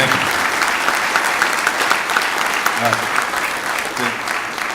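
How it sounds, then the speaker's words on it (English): Audience applause at a DC Fire and EMS recruit class graduation ceremony, steady sustained clapping from a large crowd filling the hall. "I'd like everyone to give them a round of applause for the sacrifices that they've made"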